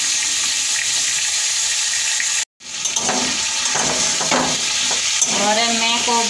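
Fish frying in a pan, giving a steady broadband sizzle with crackles and spits, interrupted by one brief silent gap.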